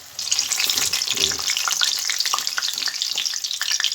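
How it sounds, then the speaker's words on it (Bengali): Soda-raised battered fritters deep-fry one by one in a wok of oil, a dense, bright crackling sizzle that begins abruptly and carries on steadily close by, with a faint low voice briefly underneath. "এই কড়াতে ভাজা হচ্ছে"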